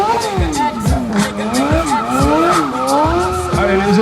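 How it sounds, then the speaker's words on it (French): A stunt motorcycle drifts with its rear tire squealing and skidding in repeated rising and falling screeches, while the engine revs loudly underneath. "Et on enchaîne en drift."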